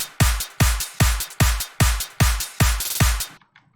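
Seven layered drum hits in a steady rhythm, each a punchy kick-like sample stacked with a sharp clap and a bright click for attack, loud and close with no talk, then a brief quiet tail.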